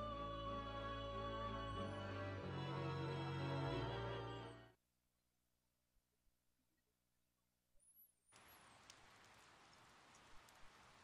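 Rain falls steadily in the Persona 4 video game, a soft hiss that starts after loud music cuts out and a short silence, then continues alone.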